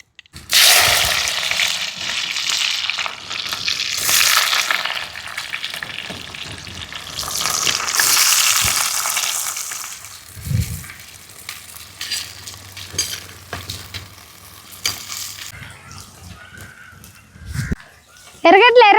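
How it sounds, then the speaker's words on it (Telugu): Chopped onions hit hot oil already crackling with cumin, mustard and fenugreek seeds, bursting into a loud, busy sizzle that gradually settles into gentler frying, with a voice speaking over it. "ముందుగా తరిగి పెట్టుకుని ఎర్రగడ్డలను వేస్తున్నా."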